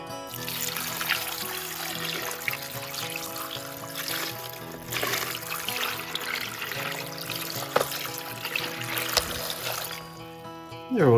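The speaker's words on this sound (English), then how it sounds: "Quick rinse with fresh water." Fresh water pours and splashes steadily over tumbled brecciated mookaite stones during a rinse, a continuous close wash of running water that lasts throughout with slight surges.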